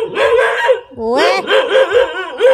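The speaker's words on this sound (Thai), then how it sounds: "อย่ามาเห่าเขา" A dog barks repeatedly at close range near a parked car, its sharp yaps mixed with someone talking to the dogs over them.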